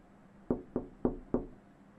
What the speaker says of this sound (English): the first sound effect you hear is a door knocking